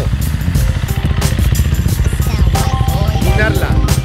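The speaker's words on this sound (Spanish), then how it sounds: "La moto." Off-road motorcycle engine running steadily throughout, a loud, close, continuous buzzing drone with rhythmic pulsing, heard during an off-road riding lesson.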